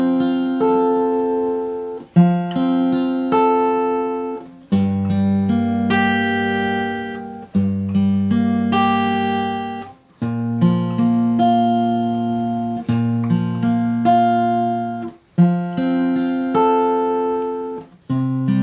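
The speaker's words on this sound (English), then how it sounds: "If I were to play this just as the traditional chord shapes or the open chord shapes, it would sound like this." Acoustic guitar strumming traditional open chord shapes, a steady sequence of full ringing chords changing every couple of seconds, close and clear with no voice.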